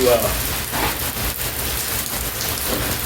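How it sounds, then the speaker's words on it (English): Steady rain patters and hisses outdoors, a dense continuous wash of drops with no voices. "Well, as you can see, she's a-raining."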